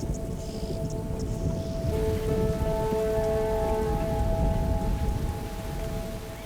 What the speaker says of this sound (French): La pluie finit par tomber.